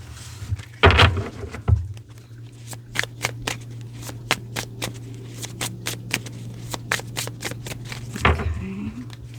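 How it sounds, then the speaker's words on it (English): Tarot cards shuffled by hand in a rapid run of crisp riffling flicks, close and fairly loud over a steady low hum, with heavier bumps and handling at the start and end. "let's get a couple of cards here."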